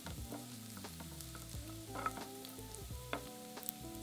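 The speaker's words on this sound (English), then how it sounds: "Fry them over a medium to high heat until they're nice and crispy." Bacon sizzles and crackles steadily in a pan over medium-high heat, with a few sharp pops and occasional clinks of a utensil stirring.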